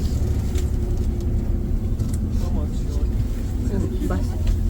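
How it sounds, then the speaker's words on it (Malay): Interior rumble of a city bus being ridden in Korea, a steady low engine drone with road noise, while passengers talk intermittently over it. "Rasa naik bas kat Korea."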